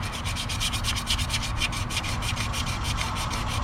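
500 grit sandpaper scuffs a Corvette inner fenderwell by hand, a rapid, steady back-and-forth rasping of quick even strokes, close and loud with no talk.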